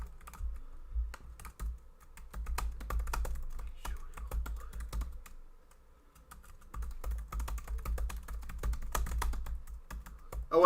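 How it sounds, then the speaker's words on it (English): Rapid keystrokes on a computer keyboard while typing into a chat box, steady clicking in bursts over a low constant hum, with a brief pause midway. "Just gonna type in the chat box."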